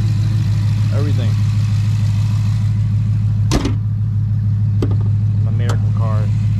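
A Dodge Charger ScatPack idles steadily while warming up, a constant low engine hum close by, with a few brief clanks and knocks and bits of talk over it.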